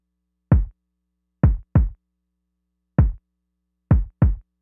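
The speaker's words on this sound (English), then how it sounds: "So let's listen to kick one." Kick drum sample played alone in a Pro Tools session, six dry, punchy low thumps in an uneven pattern with short decays and silence between hits.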